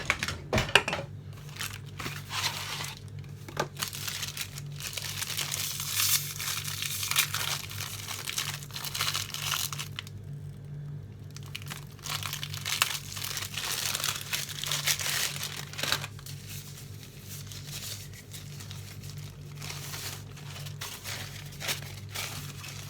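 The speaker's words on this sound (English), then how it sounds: "So I'm going to roll out the ready dough." Ready-made pastry dough is unrolled on a floured kitchen surface. Its paper crinkles and crackles steadily up close over a low background hum, with brief quieter pauses and no talk.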